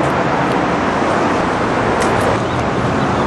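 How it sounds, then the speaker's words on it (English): Cars drive past on a street in a continuous loud wash of tire and engine noise, with a few faint bird chirps high above the roadway rumble. "Now some more cars from the other side"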